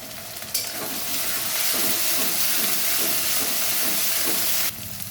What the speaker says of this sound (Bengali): রসুন বাটা, আদা বাটাটা ভাজা ভাজা হয়ে গেছে